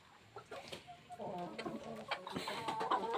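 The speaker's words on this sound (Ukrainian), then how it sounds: "тут кури в основному сидять" Chickens in a farmyard poultry coop cluck in overlapping, uneven bursts, close and moderately loud, with several birds calling at once and rustling beneath them.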